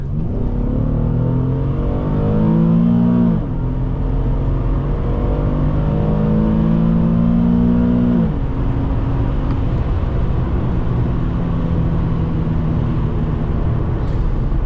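A 2011 Infiniti G37x sedan engine accelerates hard from a standstill, revving up through two gear shifts with rising tones, then settling into steady road and wind noise, loud and close from inside the cabin.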